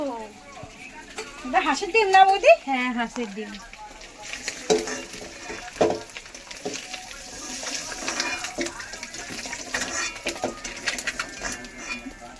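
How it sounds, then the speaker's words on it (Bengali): Duck eggs fry in a pan for an egg curry, a broad crackling sizzle that grows steadier in the second half while a voice talks over the early part. "ডিমগুলোকে এইভাবে লাল করে ভেজে নিয়েছি"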